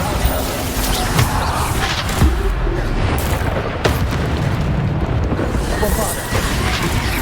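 Bombarda spell explosions in the game Hogwarts Legacy go off as dense, booming blasts over continuous game noise, with a few sharper bursts standing out and a voice speaking amid them.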